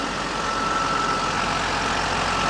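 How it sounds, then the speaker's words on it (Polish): A 2007 Claas Ares 826 RZ tractor with a soft cab, pneumatics, new tyres and added ballast weights idles steadily, a continuous even engine drone with no talk. "Traktor bardzo ładnie chodzi"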